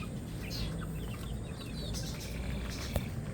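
Gamefowl chickens cluck and chirp softly at night, scattered calls over a noisy background, with a sharp tap near the end.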